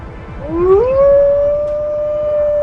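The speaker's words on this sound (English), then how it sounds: "Black Wolf calls out" A black wolf in Yellowstone gives one long, loud, rising howl that settles into a sustained steady tone, heard alone and close.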